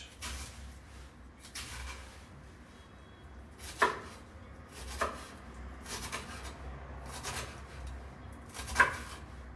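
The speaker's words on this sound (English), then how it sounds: "Okay, chopping my onion first." A knife chops an onion on a cutting board in a home kitchen, with a handful of separate, spaced-out cuts and scrapes heard close up against a quiet room, no talking.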